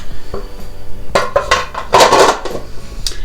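Plastic lid of an ice cream maker, holding strawberry frozen yogurt, clattering and snapping into place with a few sharp clicks and knocks, close and loud, with no talk.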